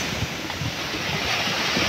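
Big ocean waves churn below a seaside house, a steady loud roar of surf mixed with wind buffeting the microphone, no voices.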